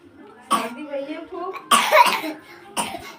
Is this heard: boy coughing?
yes